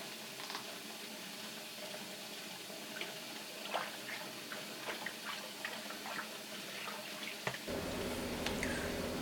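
Quiet running and splashing water while hand-dyed yarn is washed in a sink, faint and close, with small drips and clinks, and the flow growing steadier near the end.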